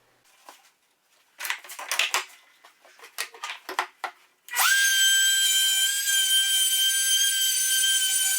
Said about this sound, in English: here I'm getting the DeWalt router set up to do the dado